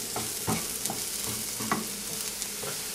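Chopped mushrooms fry in olive oil with a steady close sizzle, broken by quick scraping stirs of a utensil against the pan.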